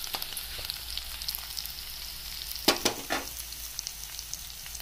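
Bitter gourd slices fry in a pan with a soft, continuous hiss of oil and a short cluster of scraping, stirring clicks partway through.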